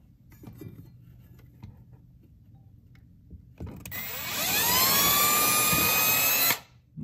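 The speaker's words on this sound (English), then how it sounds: "Let's pull this out and drill it." A power drill bores a 1/16 inch pilot hole in 3/4 inch plywood while installing undermount soft close drawer slides: quiet handling sounds, then the motor spins up to a loud, steady, rising whine before stopping abruptly.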